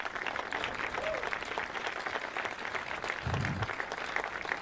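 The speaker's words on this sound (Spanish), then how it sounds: "Por favor, un fuerte aplauso para estos speakers." Audience applause for the speakers at a Startup Grind Santiago event, a steady wash of many hands clapping throughout, with a brief low thump partway through.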